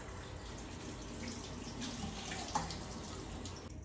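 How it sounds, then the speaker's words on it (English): Echinacea flowers rinsed in a colander under a running kitchen tap: a steady, close rush of water splashing continuously throughout, with no talk. "I'm gonna give them a nice little rinse."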